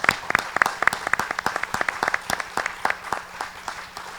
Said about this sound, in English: Let's give a big round of applause, a standing ovation for this panel.